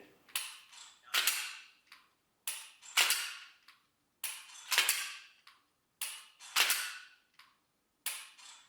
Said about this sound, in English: every time your striker hits the back or firing pin hits the back, it's going to set off a little laser beam that's going to record your shots